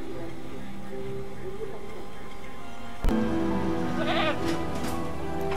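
A goat bleats in a dinosaur park video game, a wavering cry that rises out of a murmuring background with a sharp knock just before it, while someone talks.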